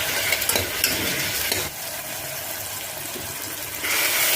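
Tomatoes sizzle and fry in a pan over a high flame, giving a steady, close crackle. A stirring spoon scrapes through the pan with brief bursts of noise, and no one talks.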